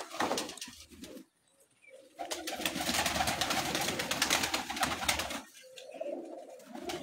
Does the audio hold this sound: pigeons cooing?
yes